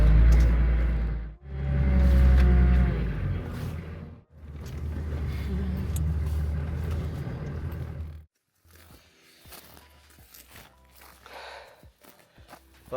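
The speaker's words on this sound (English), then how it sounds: "Yeah, I'm going to try to back up into there." A 4WD car reversing into a wild campsite spot in northern Spain: loud, close engine rumble in two surges, broken by brief pauses, then the engine cuts off and leaves quiet scuffling.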